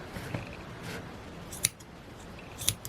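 Scissors trim the ends of crocheted thistle yarn with a few quiet, crisp snips spaced apart, close by against a soft background hush.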